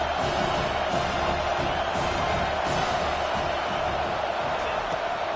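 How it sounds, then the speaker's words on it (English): A large video game basketball crowd roars continuously in a big arena, a dense wall of cheering and noise that holds steady throughout. "Listen to this crowd just shaking the girders of this place, trying to help their defense."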